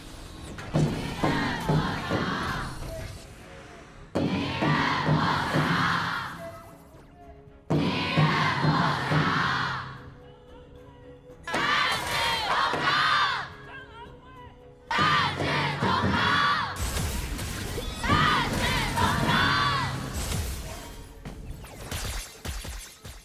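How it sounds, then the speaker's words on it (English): A large arena crowd roars and cheers at the PKL Grand Finals 2025 esports match between JD Gaming and Wolves eSports, coming in loud repeated surges of several seconds each, separated by brief quieter gaps. "Wonderful cheers from the crowd here"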